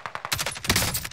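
A short, loud, rapid-fire burst from an SMG in Warzone on Rebirth Island, with quick evenly spaced shots building into a dense rattle over about a second.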